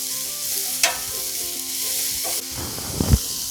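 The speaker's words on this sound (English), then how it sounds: "we're going to add in the chopped onions and saute for 30 seconds" Chopped onions hit hot oil with crackled mustard seeds in a pan, a steady sizzle with a few clinks and scraping stirs, then a louder burst of frying near the end.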